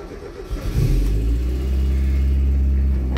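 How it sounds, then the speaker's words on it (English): A Mazda Miata NA with the 1.6 engine and an aftermarket SpeedyEFI ECU cranks briefly, then catches and settles into a loud, steady, high cold-start idle close by. "And now you should be ready to start the engine."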